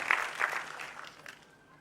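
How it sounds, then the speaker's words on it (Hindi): An audience in the Dattopant Thengadi auditorium in Gwalior applauds to welcome the Union agriculture minister, a broad, fairly distant burst of clapping that fades over under two seconds. "ऐसे आदरणीय नरेंद्र सिंह तोमर जी का जोरदार ताली बजाकर हम अपने दत्तूपंत ठेगड़ी सभागार में स्वागत करते हैं"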